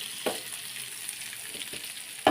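Green fish fry sizzling in a pan: soft, steady frying hiss with a few faint stirring scrapes, quiet and close, with no talk.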